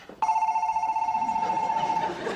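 Telephone bell ringing in a sitcom home scene, one loud sustained electronic ring tone lasting about two seconds, alone with no talk over it.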